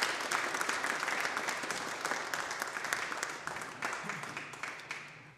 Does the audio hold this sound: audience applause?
yes